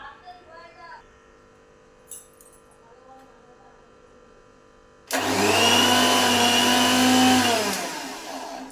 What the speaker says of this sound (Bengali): এবার আমি মিক্সিতে করে নেব